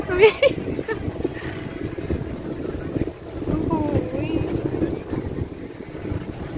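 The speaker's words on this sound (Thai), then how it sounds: "ลมทะเลแรงมากค่ะ" Strong sea wind buffets the microphone on the beach at Jomtien, Pattaya, a steady rushing roar with gusts, while someone talks over it and surf murmurs faintly beneath.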